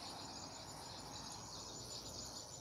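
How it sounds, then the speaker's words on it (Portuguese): Faint, continuous high chirping from birds and insects in a home garden, a steady distant chorus with no voices. "Olha o barulho dos pássaros."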